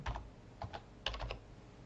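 Keys clatter on a computer keyboard as a line of Python turtle code is entered, two short bursts of clicks with a brief pause between, close and fairly quiet.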